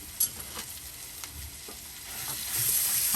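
Finely minced shallot hits a hot pan and sizzles, a close hiss that starts with a sharp clatter, stays moderate, then swells louder and brighter toward the end with a few stirring scrapes.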